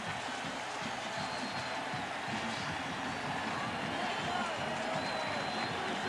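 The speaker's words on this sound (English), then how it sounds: "The crowd's going wild." A stadium crowd roars in a continuous dense wash after a kickoff return touchdown in a 1998 Ravens home game against the Vikings, steady and distant-sounding with a voice faintly underneath.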